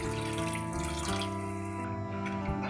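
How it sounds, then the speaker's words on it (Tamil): Water runs and splashes continuously into a cooking pot for sundakkai vathal kuzhambu, close and steady, with a low tonal hum underneath. "குழம்புக்கு தகுந்த மாதிரி நம்ம தண்ணி ஊற்றிக்கலாம்."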